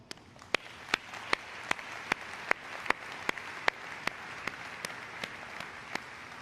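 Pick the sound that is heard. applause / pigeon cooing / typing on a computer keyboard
applause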